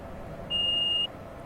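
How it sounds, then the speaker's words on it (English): A cab alarm in an Amtrak ACS-64 locomotive in Train Simulator 2015 sounds as a single steady high-pitched electronic beep lasting about half a second over a soft background rumble. "the alarm went off when I pressed Q to cancel it"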